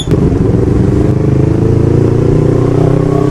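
Steady road noise heard from a moving motorcycle in congested traffic with trucks and cars nearby: a continuous loud, dense engine and wind rumble that stays even and close throughout, with no talking.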